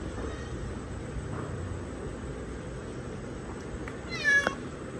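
A cat lets out one short, rising meow near the end. It stands out clearly over a steady low hum of street and household background while the pets watch the road from indoors.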